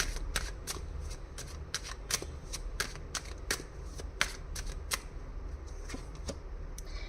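Tarot cards shuffled and drawn for a weekly horoscope reading, a steady run of crisp, papery flicks and snaps at close range with a low room hum underneath and no talking.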